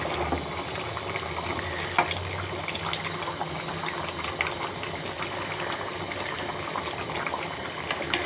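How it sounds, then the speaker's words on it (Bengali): A simmering pot bubbles and hisses steadily on the stove with its lid lifted, a soft continuous boil with faint scrapes of stirring. "ঢাকাটা তুলে নিচ্ছি। হালকা একটু আলতো করে নাড়াচাড়া করে দিব।"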